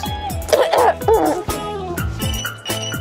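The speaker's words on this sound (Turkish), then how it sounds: "Öksürmeye de başladım." Repeated coughing from a person who has caught a chill, a burst of several harsh, close coughs with throaty rasps between them, loud and near, with no talk over it.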